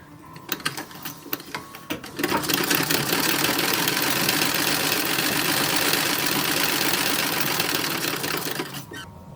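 A 1907 antique treadle-era sewing machine starts with a few separate clicks, then runs in a steady, fast mechanical whirr and clatter for several seconds before slowing to a stop, close and loud.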